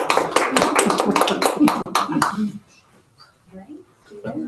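A few people clapping at a school governing council meeting, a burst of distinct hand claps that stops abruptly, followed by quiet talk.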